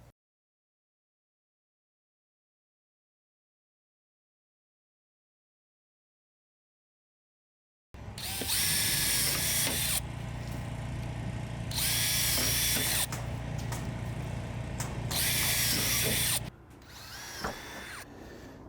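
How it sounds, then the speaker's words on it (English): Power drill pre-drilling screw holes through C trim for horizontal board and batten at an end wall, heard up close after a silent start, with about three loud bursts separated by short pauses. "There we go, we pre-drilled our holes."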